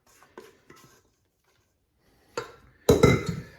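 A baking pan of gluten-free Swiss roll batter is shaken and jiggled, giving a few light metallic rattles and then two louder clattering bursts near the end, with no voices.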